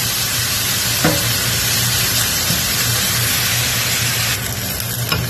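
Food cooking in a frying pan while being stirred, a steady loud sizzle and hiss with a few faint scrapes, no talking.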